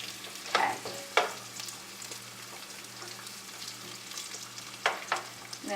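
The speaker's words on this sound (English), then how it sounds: "give that a little saute" Pork medallions saute in a hot pan with a steady low sizzle, punctuated by a few sharp scraping or stirring clicks near the start and again near the end, with a faint electrical hum underneath.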